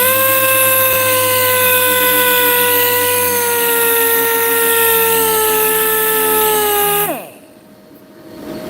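A power sander runs steadily on a BMW E36 M3 body, sandpaper whining at a constant loud pitch for about seven seconds before the motor spins down and stops.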